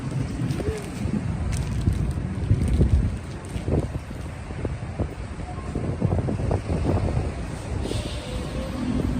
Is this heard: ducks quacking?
no